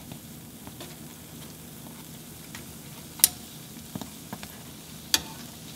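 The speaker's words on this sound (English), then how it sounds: "I'm going to just fry until outside is really crispy" Korean twisted doughnuts, kkwabaegi, frying in hot oil, a soft, steady sizzle with scattered faint pops and a few sharper clicks.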